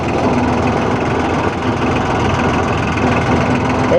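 A vehicle engine in 4-wheel drive rumbles steadily at low speed while creeping down a steep hill, a constant near drone with no speech.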